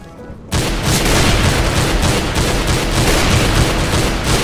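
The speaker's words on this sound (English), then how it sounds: "I'm throwing a flashbang." A flashbang grenade detonates in Counter-Strike: Global Offensive after a short quiet moment, a sudden loud blast followed by a sustained roaring, ringing wash of noise that holds for several seconds.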